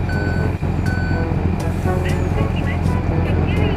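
Steady reversing beeps from a truck in Farming Simulator 19, an Isuzu Rocky hauling potatoes to a factory, repeat at an even pulse over a constant low engine drone. Someone talks over it throughout.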